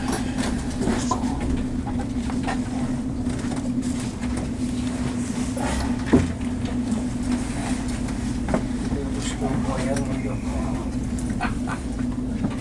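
A train at Glasgow railway station gives a steady low rumble and hum throughout, with a couple of brief clanks standing out over a constant station din, and voices murmur faintly in the background.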